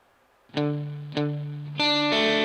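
Distorted electric guitar plays a lick slowly, three separately picked notes that each ring out, close and alone without any voice.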